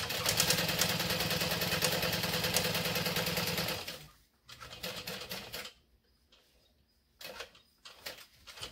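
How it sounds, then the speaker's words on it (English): A sewing machine top stitches straight across a bucket bag, running steadily and close for about four seconds before stopping, followed by softer handling sounds and brief intermittent noises. "we're going to top stitch straight across to the other side"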